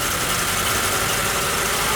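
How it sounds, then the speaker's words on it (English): A car engine idles after its throttle body has been cleaned, a steady, close mechanical hum with a slightly rough, knocking texture as it relearns airflow. "Watch the RPMs and listen to that engine"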